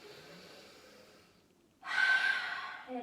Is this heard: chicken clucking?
no